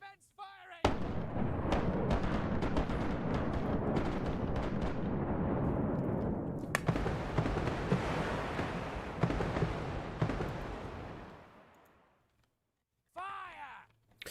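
A long, loud barrage of ship cannon fire in the pirate naval game Rise of Piracy, dense overlapping booms and crackle rolling on for about eleven seconds before fading, then a brief final burst.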